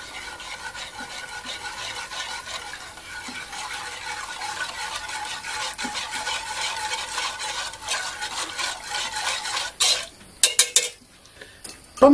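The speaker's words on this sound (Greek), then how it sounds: "Ανακατεύουμε." A spoon stirring a sugar mixture in a pot, rapid continuous scraping and swishing against the metal, growing louder with a few sharp clinks near the end, no talking.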